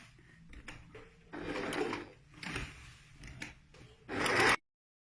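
A sewing machine runs a seam around a zipped cushion in several short bursts of rapid stitching separated by brief pauses, ending in a longer, louder run close by.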